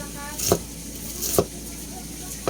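Onion chopped into small pieces on a cutting board while cooking okra and milkfish, two distinct knife knocks spaced about a second apart with a third at the end, close and fairly sharp over quiet kitchen background.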